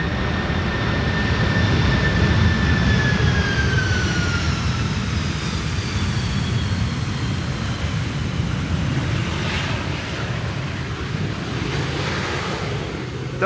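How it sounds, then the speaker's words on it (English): A large airliner on landing at Schiphol's Polderbaan runway roars steadily, a broad sustained rumble with a faint whining tone that slowly falls, loud and continuous without speech. "I heard reversers being applied there."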